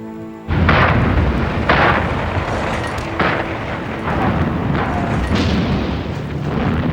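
Heavy booming blasts from a hand grenade thrown in WWII combat footage, a loud sudden onset followed by repeated rumbling explosions and dense roaring noise throughout.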